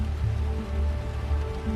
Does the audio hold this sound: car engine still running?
no